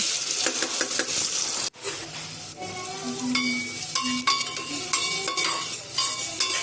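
Khichdi being stirred and mixed in a pan, with steady close scraping and stirring strokes over a soft background sizzle, plus occasional clinks of the spoon against the pan and a brief gap.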